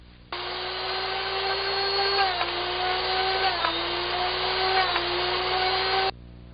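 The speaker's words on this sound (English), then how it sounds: "Then you sharpen the bit." A Drill Doctor drill bit sharpener gives a high, steady grinding whine as it sharpens a bit, starting abruptly and holding for about six seconds, dipping slightly in pitch a few times before cutting off.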